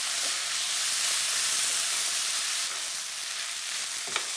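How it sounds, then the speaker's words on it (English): Natural yoghurt being stirred into a sizzling pan dish, a loud continuous frying hiss with faint scraping stir strokes and a sharp clink near the end. "And just give it a good stir around."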